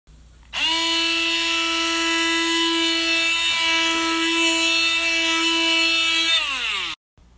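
An electric power sander runs on a wooden farmhouse coffee table, starting abruptly and holding a steady, loud, high-pitched whine for about six seconds before winding down and stopping.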